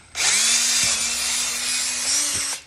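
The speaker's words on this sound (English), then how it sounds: "take your drill with that 1/4-inch bit still and place it right in the middle of that hole" A power drill with a 1/4-inch bit bores out a screw hole in an IKEA Marius stool, one steady high whine running about two and a half seconds, close and loud, with faint bumps as the bit bites.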